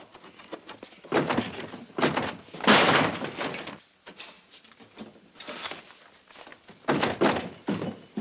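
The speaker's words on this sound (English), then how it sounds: "Irene, open the door!" Heavy pounding on a locked door, loud thumping bursts repeated in uneven clusters over several seconds, alone without speech.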